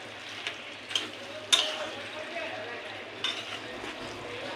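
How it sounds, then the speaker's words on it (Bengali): A utensil stirs and mixes spices, with ground cumin added, in a sizzling frying pan, giving soft scraping strokes and a few sharp clinks against the pan over a faint, steady fry. "মিক্স করে দিই।"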